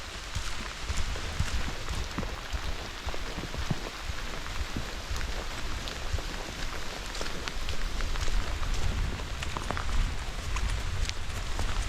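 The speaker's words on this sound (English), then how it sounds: "It's raining pretty good." Heavy thunderstorm rain pours steadily throughout at a forest cabin shelter, a dense hiss of drops pattering on surfaces with occasional louder splashes, close and continuous.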